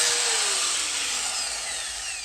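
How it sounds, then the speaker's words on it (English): Angle grinder cutting, a continuous bright high whine with a slowly falling pitch, close and loud, with no voices. "Angle grinder."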